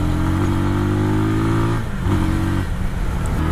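Benelli TNT25 or Kawasaki Z250 motorcycle engine revving up and dropping off twice in quick throttle blips, close and loud, with no talk.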